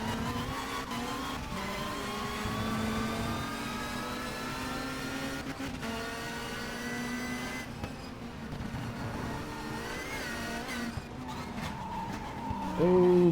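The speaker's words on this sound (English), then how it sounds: "Oh, bit late braking." A 1992 BTCC touring car at Brands Hatch Indy in the Race 07 game drones with a steady engine tone, its pitch shifting under braking and gear changes, with other cars nearby and a brief bump near the end.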